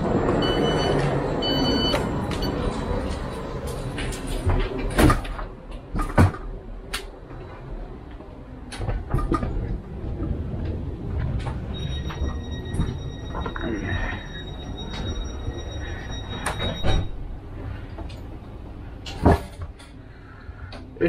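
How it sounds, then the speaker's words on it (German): A train arrives at a German station and passengers board. Low rail rumble and clattering thuds from the doors are followed by a steady electronic warning beep in the middle, with a busy platform murmur underneath. "Und dieser Zug, der ist angekommen."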